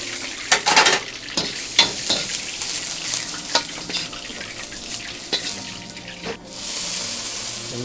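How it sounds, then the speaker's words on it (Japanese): Fried hamo eel tossed with shallots and Daitokuji natto in a pan, a steady sizzle broken by repeated scraping and clattering strokes of stirring, close and moderately loud with no talking. "先ほどの炒めた大徳寺納豆とエシャロットを炒めて揚がったハモを投入していきます"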